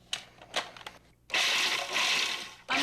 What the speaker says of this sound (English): Pulsing it just until the walnuts are coarsely chopped